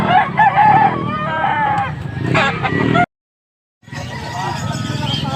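A rooster crows amid the bustle of a busy open market in Pampanga, loud and close, with people talking around it; the sound cuts out abruptly for a moment before the crowd noise returns.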